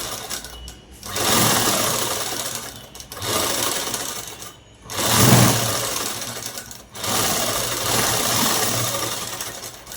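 A sewing machine stitches the lining of a long frock, running in three long steady whirring bursts separated by short pauses, close and loud.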